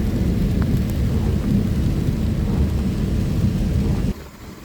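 Strong rain falls in Qatar under a low, continuous rumble of thunder, a dense and loud roar that holds steady and then drops away sharply near the end.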